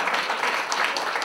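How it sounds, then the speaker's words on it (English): Audience applause for two men at a National Action Network gathering, a dense, steady spatter of many hands clapping for a moment with no voice above it. "Round of applause to both of them brothers."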